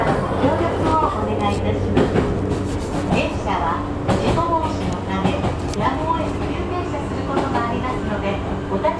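Interior running noise of a Sotobo Line one-man train: a continuous low rumble and rattling carriage sounds with soft wheel clicks, accompanied by murmuring voices or announcements throughout.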